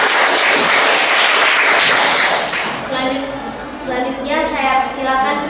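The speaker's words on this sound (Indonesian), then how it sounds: "Mari kita berikan aplaus untuk teman kelompok 1." A classroom group claps for the first group's presentation, a dense burst of applause that fades within a few seconds as voices begin talking over it.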